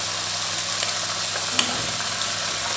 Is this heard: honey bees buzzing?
no